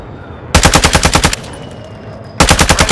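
Call of Duty: Modern Warfare II automatic gunfire comes in two loud, close bursts of rapid, evenly spaced shots, with a quieter stretch of faint game ambience between them.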